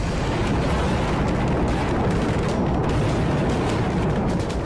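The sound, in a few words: Israeli heavy artillery firing on southern Lebanon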